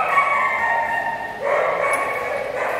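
Several puppies yip and bark in a continuous overlapping chorus, close and fairly loud, their high cries rising again midway through.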